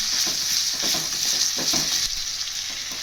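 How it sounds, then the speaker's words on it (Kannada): Onion with ginger-garlic paste frying in a pan for a gooseberry masala rice, with a close crackling sizzle and quick, rhythmic stirring scrapes over a few seconds. "ಶುಂಠಿ ಬೆಳ್ಳುಳ್ಳಿ ಪೇಸ್ಟ್ ಹಾಕ್ಕೊತಾ ಇದ್ದೀನಿ ಇದು ಸ್ವಲ್ಪ ಹಸಿ ವಾಸನೆ ಹೋಗೋವರೆಗೂ ಫ್ರೈ ಆಗಬೇಕು"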